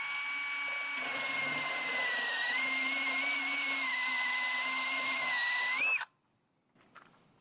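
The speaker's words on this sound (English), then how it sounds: "by drilling out these two spot welds that are on the end of this core support" A power drill whines at a steady high pitch for about six seconds as it bites through the metal spot welds of a car's core support panel, then stops abruptly, leaving near silence.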